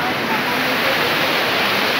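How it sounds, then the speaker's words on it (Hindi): Rushing waterfall water swelling as the flow rises, a steady broadband roar that fills the entire stretch at close range with no break. "देखो पानी बहुत बढ़ रहा है"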